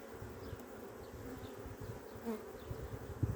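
Honey bees buzz softly around an open beehive during an inspection, a low, continuous drone with a few louder passes close by near the end.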